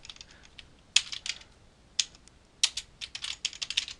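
Someone types on a computer keyboard to fill in form fields, with sparse crisp key clicks at first and then a quicker burst of keystrokes near the end.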